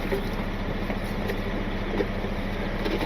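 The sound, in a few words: idling truck engine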